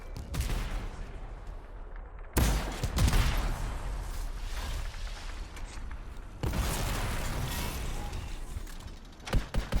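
Ultimate ability explosions from the video game Anthem: loud, dense bursts of booming blasts and gunfire-like crackle, with two big onsets roughly four seconds apart and sustained rumbling chaos between them.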